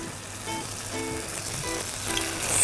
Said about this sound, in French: Je vais maintenant les frire dans un bain d'huile bien chaud.